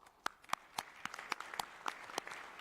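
Scattered claps from a small audience at an interreligious dialogue event, a dozen or so sharp separate claps spread over a few seconds, moderately close and fairly quiet, with no talking.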